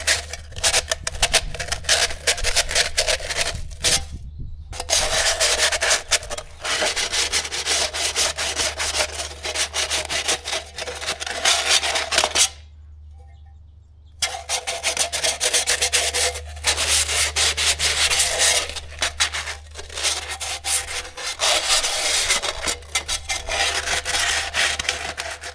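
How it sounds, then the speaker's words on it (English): Sandpaper rubs steadily across the sharp edges of a metal part for a Willys jeep, a loud, continuous scratchy back-and-forth with brief pauses near 4 and 12–14 seconds, heard alone without talk. "I'll take some sandpaper, and we'll just sand down the edges so it's not super sharp"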